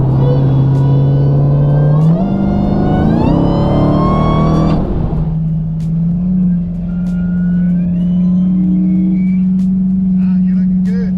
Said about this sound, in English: first thing I'm gonna check is a little part throttle right here